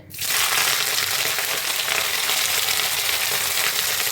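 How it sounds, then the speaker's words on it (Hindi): Cauliflower florets hit smoking-hot oil in a pan and fry with a loud, steady, close sizzle that starts sharply and holds strong throughout. "अब तेल हमारा धुआंधार गर्म हो गया है। अब इसमें हम गोभी डालेंगे"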